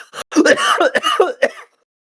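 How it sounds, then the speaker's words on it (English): A person coughs close to the microphone in a rapid fit of throaty bursts with some throat clearing, ending after about a second and a half. "Oh no, I just coughed like a shit ton then for no reason."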